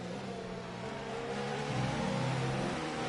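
Engine note of a Ferrari Formula 2 car in a PS4 F2 racing game at Austria, a steady mid-pitched drone that rises gradually as the car accelerates away from a corner, continuous and fairly faint.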